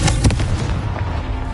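Confringo fire spell blast from the Hogwarts Legacy video game, a loud booming burst at the start followed by a rumbling, crackling tail that slowly fades.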